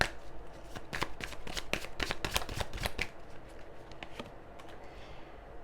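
Tarot cards are shuffled close up in a rapid run of crisp papery riffles, loud for about three seconds before trailing off into a few faint slides and quiet room tone.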